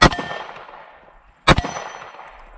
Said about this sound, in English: Let's try the MGM gong.